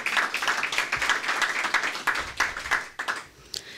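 Audience clapping at a press conference on African American student performance: steady, dense applause from many hands, fairly close, lasting the whole stretch and thinning slightly near the end.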